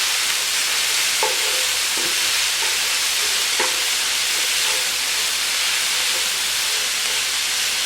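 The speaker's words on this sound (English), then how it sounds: "And I'm just going to saute these up." Minced garlic and a jalapeno sauté in oil with a steady, dense sizzling hiss that runs unbroken throughout, punctuated by a few faint scrapes and clinks of a stirring utensil.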